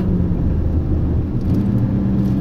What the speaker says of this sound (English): the engine does sound loud when it's doing it